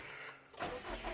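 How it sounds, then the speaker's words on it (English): 2018 Subaru WRX STI engine cranks and catches, a quick rising burst of engine sound after a moment of quiet, then settling into a steady rumble, fairly faint and close. "Start the engine when you're ready."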